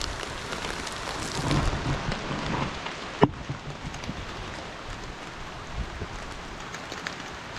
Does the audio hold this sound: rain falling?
yes